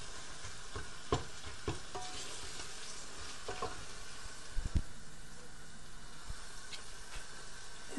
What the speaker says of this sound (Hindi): अब ये मसाला तकरीबन भून लिया मैंने।